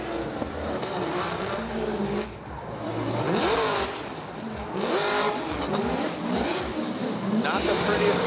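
Drift cars running a Formula Drift course at Long Beach, engines revving and roaring past in bursts of acceleration, loud and continuous, with a commentator talking over the noise.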